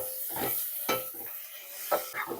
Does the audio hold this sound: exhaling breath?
no